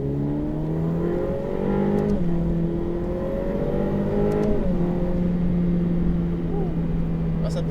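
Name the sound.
Ferrari F8 Tributo accelerating on circuit, turbo spooling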